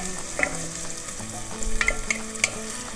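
Chopped shallot sizzles and fries in a pot of oil while being stirred for Italian wedding soup, a steady close crackle with scattered sharper pops and spoon scrapes, with no talking.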